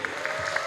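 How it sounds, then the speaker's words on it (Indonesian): Audience applause at an evening theatrical show of traditional children's games, a brief steady wash of clapping with a few sharper claps standing out. "kita beri aplaus yang meriah untuk TBM Al-Fatih"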